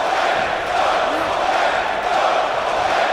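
A wrestling arena crowd in a WWE 2K video game keeps up a loud, continuous roar and chanting, a thick steady wall of voices with slight swells and no distinct words.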